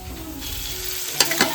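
Washed dried shrimp (jawla) tossed into a pan of fried onion, turmeric and masala, a steady close sizzle with a couple of brief scraping stirs near the end.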